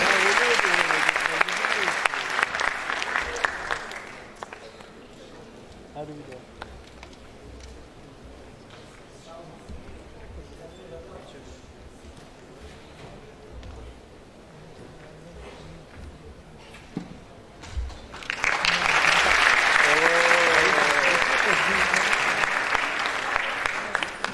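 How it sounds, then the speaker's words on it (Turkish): Audience applause welcoming a university rector to the stage at a Turkish-language conference, loud sustained clapping at the start, fading under a quieter hall with murmur, then swelling again loudly near the end. "Rektörümüz Profesör Doktor Sayın Turgay Uysun alkışlarla sahneye davet ediyoruz."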